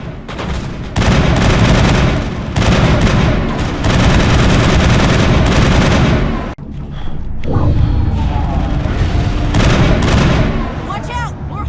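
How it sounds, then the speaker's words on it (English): Turret gunfire booms and rattles in a Mass Effect battle, loud sustained bursts of heavy shots and explosions running almost without a break, with a short lull after which combat noise and voices come back. "That turret could punch some nasty holes."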